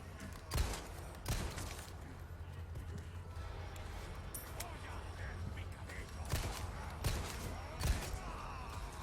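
Gunfire in Resident Evil 4 Remake: several sharp, loud shots in separate bursts, a pair early and a pair late, standing out over a steady rumbling game background.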